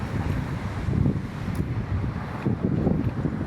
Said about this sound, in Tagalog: Mahangin tayo dito